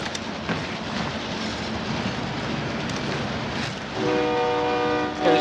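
A train in a shooter video game rumbles steadily past with a clattering, hissing roar, then its horn blares loudly for over a second near the end, with no talking.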